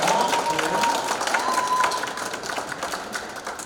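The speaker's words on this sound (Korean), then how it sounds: "다시 한번 큰 박수 부탁드리겠습니다." A crowd applauds at the Gyeyang Library 20th anniversary ceremony, after a performance by a club. Loud, continuous clapping with some murmuring and a faint tone begins strong and gradually eases.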